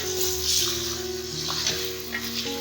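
Chicken pieces frying in hot oil in a pot for chicken korma, a steady close sizzle with faint stirring, no voices.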